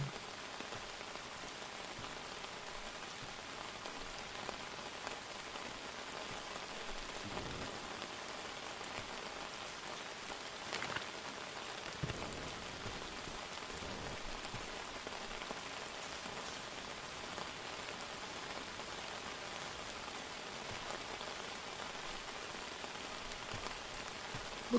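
Light rain in the survival video game Outbound: a steady, soft patter of drizzle on surfaces, continuous and even for the whole stretch, with a few slightly louder drops and no talking.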